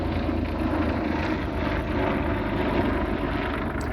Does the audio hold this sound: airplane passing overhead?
yes